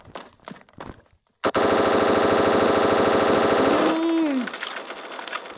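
Sustained automatic rifle fire in the mobile shooter Standoff 2, a dense rapid burst running for about two and a half seconds, loud and close. A few short effects follow, with a brief spoken word just before the firing.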